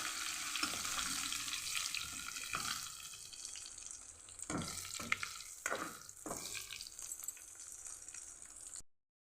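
Curry leaves hit hot oil in a pan with toor dal, giving a steady close sizzle with a few louder crackling bursts partway through, no talking.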